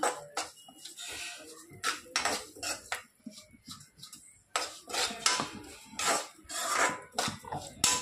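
Dry fruits for laddu roast in a pan on low heat, giving bursts of close clattering and scraping as they are stirred, with short quiet gaps between.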